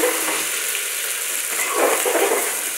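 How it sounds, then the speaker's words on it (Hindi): Capsicum frying in a pan with peas for a mixed vegetable dish, giving a steady, close sizzle with soft stirring scrapes that swells slightly toward the end. "शिमला मिर्च डालने के बाद आप इसको भी 2 मिनट तक भून लीजिए।"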